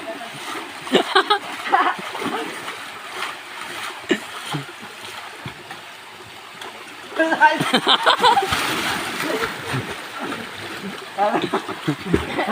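Water splashing in bursts as people swim in a river in Konkan, with voices shouting and talking around the splashes.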